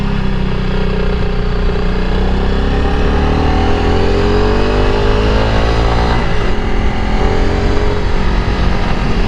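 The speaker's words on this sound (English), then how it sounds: "I really like this little bike." Honda CRF300L Rally motorcycle on the Mid-Atlantic BDR, with a steady, loud single-cylinder engine drone and wind rush recorded while riding, pitch shifting slightly as the throttle changes.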